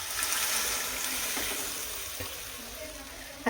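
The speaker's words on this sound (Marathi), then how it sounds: "आता लागण एवढं ह्याच्यामध्ये मी पाणी ॲड करते" Water pours into a thick pot of drumstick lentil curry, making a gentle hissing sizzle that slowly settles down. A brief clink comes at the very end, and no one speaks.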